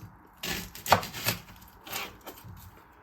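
A knife chops through an onion on a board for a beef and onion stir fry, giving several close, crisp knocks at an uneven pace, with no talking.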